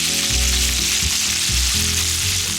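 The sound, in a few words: bacon sizzling in frying pan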